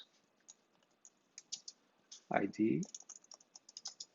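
Computer keyboard typing while writing a for loop, scattered quick key clicks in short bursts before and after a brief spoken word.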